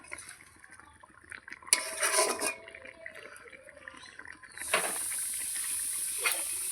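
Leftover fish curry reheating in a pan gives off a soft hiss and steam, with brief clinks partway through and then a steadier, louder hiss toward the end.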